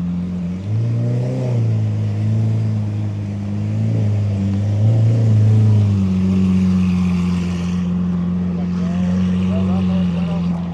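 A Chevrolet Malibu with PQ Performance work cruises steadily, its engine droning low and loud from inside the cabin, with pitch rising and falling slightly as it rolls along and a voice speaking over it.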